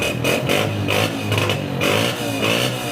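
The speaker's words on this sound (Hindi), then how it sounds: "Honda 125 self start Chrome addition, बहुत अच्छे साउंड है।" A used Honda 125 self-start chrome edition motorcycle engine runs close by with a steady, throbbing mid-pitched drone that swells slightly in a few mild revs, heard alone.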